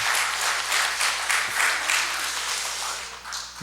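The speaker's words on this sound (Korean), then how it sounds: "박수 한번 쳐주시면 고맙겠습니다" A church congregation applauds at a Thanksgiving Sunday service, a dense, even wash of many hands clapping that holds for several seconds, close and loud, with no talk over it.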